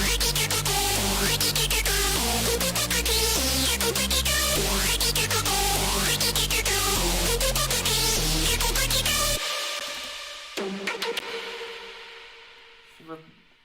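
Electronic dance track with a bright synthesizer lead whose tone sweeps and shifts under automated knob movement over a driving beat, loud and steady, then cutting abruptly to a sparse, quieter tail with scattered hits.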